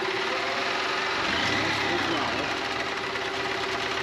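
A 2001 EZGO TXT gas golf cart engine runs roughly, spitting and sputtering with an uneven idle chug and occasional pops, close by and steady, with a voice talking over it.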